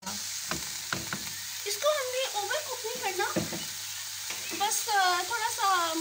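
Cabbage stir-frying in a pan for chicken pasta, a steady hiss of sizzling with a few stirring knocks, while someone talks over it throughout.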